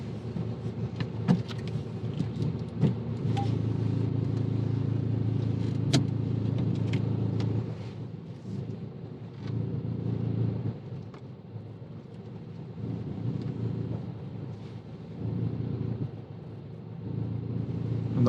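Engine of a learner's car reversing back two spaces during a driving lesson mock test in Newcastle-under-Lyme, a steady low idle hum with light creeping revs and faint cabin noise, no talk.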